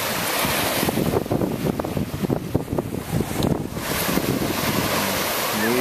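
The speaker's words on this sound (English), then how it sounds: "enjoying the surf coming in." Ocean surf rolls steadily onto a Grand Turk Island beach, a continuous broadband wash of breaking waves with wind buffeting the microphone throughout, no voices.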